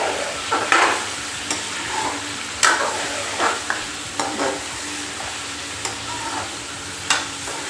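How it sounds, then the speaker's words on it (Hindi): Chicken pieces frying in hot spices in a pan for a Delhi-style chicken korma, with a steady close sizzle broken by repeated scraping stirs of a spoon against the pan. "मसाले थोड़े से गर्म हो गए हैं तो हमने बिस्मिल्लाहिर्रहमानिर्रहीम चिकन डाल देना है। और इसको हम करेंगे फ्राई।"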